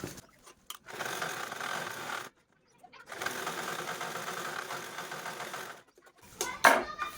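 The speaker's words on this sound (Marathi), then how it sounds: "हा ओपन पार्ट मी स्टिच करून घेते" A sewing machine stitches up the open part of a cloth bag in two long, steady runs, separated by short pauses, with a few light handling clicks.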